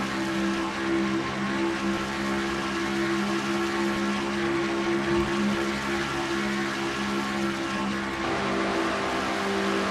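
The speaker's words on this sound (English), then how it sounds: "Front bumper cam from Becca Tellier's car, they're running very close to the Quaker State car of Sky Commons" Race cars in a NASCAR-style racing video game drone steadily at close quarters, a continuous layered engine roar from a bumper camera with no pauses, loud and unbroken throughout.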